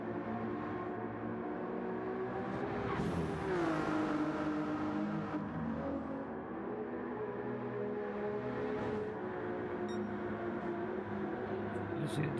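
BMW and Ferrari GT race cars battling at the Nurburgring in a sim racing game: steady high-revving engine drone with shifting pitches, two cars close together, continuous throughout.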